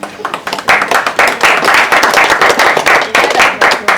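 An audience claps through a prize distribution for a pigeon-flying tournament. The applause swells into a dense, steady burst and keeps going to the end, with some talk faintly underneath.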